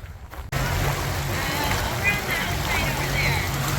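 A small dinghy motorboat runs steadily across open water on a cruising trip near Pender Harbour, its engine drone and rushing water and wind filling the scene loudly and close after a brief quieter start.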